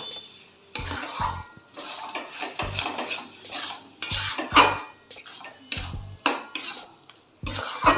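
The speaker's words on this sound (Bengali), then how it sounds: "এবার আমি এগুলোকে ভালো করে মিশিয়ে নেব" Pav bhaji masala being mixed in a pan with a spoon, giving repeated scraping and clinking strokes of metal on the pan in uneven bursts, close and fairly loud with no talking.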